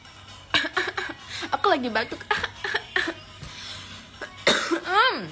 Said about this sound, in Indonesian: iya aku lagi batuk.